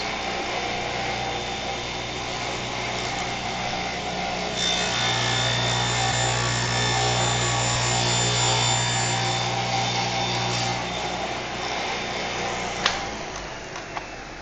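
Steady, rasping strokes of a saw cutting through wood, close and continuous, growing a bit louder midway before ending with a sharp knock.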